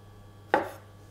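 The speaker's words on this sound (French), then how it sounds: "Donc on coupe les champignons comme ça, grossièrement." A single knife chop through mushrooms on a cutting board, one sharp close knock with a short decaying tail, being roughly cut, otherwise quiet.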